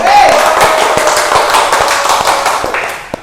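Hands clap together in a classroom group of students, a loud, close, fairly rhythmic patter of several people clapping at once, tapering off near the end with one last sharp clap.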